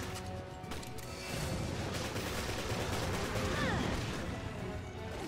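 Gunfire and combat noise in the Resident Evil Revelations video game, a dense, steady wash of shots and clattering impacts at moderate loudness, with faint talk mixed in.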